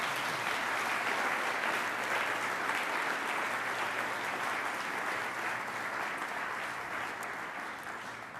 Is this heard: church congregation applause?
yes